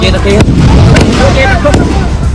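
Fireworks and firecrackers at an Eid al-Fitr celebration crackle and pop in sharp bursts over a dense, loud crowd roar, with voices talking and shouting nearby.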